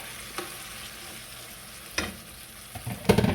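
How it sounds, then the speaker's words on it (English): A spoon stirs thickening sweet and sour pork sauce in a pan, with soft scrapes and a gentle sizzle, then a few louder clinks of utensil against the pan toward the end. "Now this is going to thicken up, so I'm just going to stir it."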